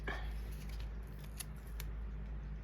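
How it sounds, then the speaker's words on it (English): Scissors cutting a sheet of paper in half for a handmade floral card, a few soft close snips in a quiet room. "I think I can just cut that in half."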